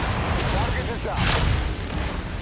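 Enemy mechs fire on the player in the video game MechWarrior 5: Mercenaries, with deep booming shots and rumbling impacts rolling continuously while someone talks over the combat.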